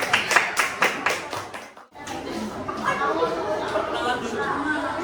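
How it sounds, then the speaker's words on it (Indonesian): Classroom applause for a student group: a burst of rapid hand claps for about two seconds, then a brief lull and a busy mix of children's chatter and light laughter filling the room. "Tepuk tangan untuk kelompok benua Amerika."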